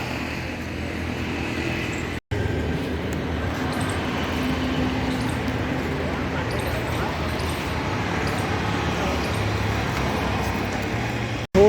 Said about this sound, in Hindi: थोड़ा ट्रैफिक का शोर आएगा तो बियर कर लेना